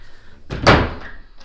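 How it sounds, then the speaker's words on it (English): A door in an old Spanish farmhouse, abandoned for ten years, swung shut with a single solid thud, close and reasonably loud in a quiet room. "Okay, closing that door."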